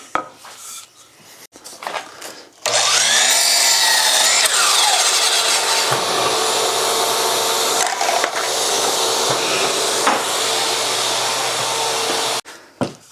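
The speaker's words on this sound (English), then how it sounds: "I'm going to take it to the miter saw where I've got a stop set, cut it to my final length" A miter saw cuts a wooden table leg to final length against a stop block: a loud, steady whining cut lasting about ten seconds, framed by brief motor spin-up and wind-down sounds.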